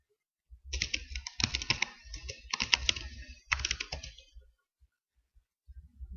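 Keys clattering on a computer keyboard while a command is entered in a virtual machine setup, close and crisp in quick bursts separated by short gaps, with no one talking.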